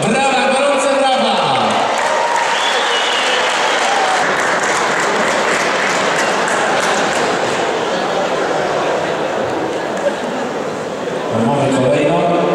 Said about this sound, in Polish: Brawa, gorące brawa!